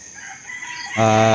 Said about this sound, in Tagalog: nandito po tayo sa ating mga alagang manok o yung ating pong mga stags